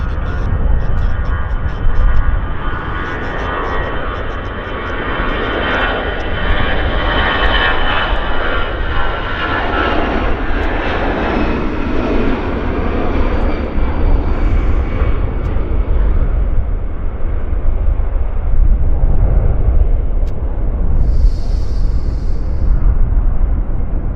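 Air Canada Airbus A321 jet taking off from Vancouver Airport's north runway, a loud, sustained engine roar that swells and rumbles broadly for the whole stretch, close to the listener, with no talk over it.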